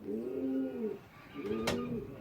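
Pigeons in a loft, including an old pedigree Staff Van Reed cock, coo in two drawn-out, throaty phrases close by, with a brief bright chirp cutting in near the end.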